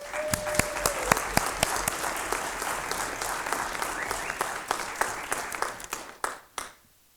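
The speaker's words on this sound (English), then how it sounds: "I always get nervous when you clap before I talk" Audience applause welcoming a speaker, with distinct sharp claps over a smaller crowd that thins out and stops.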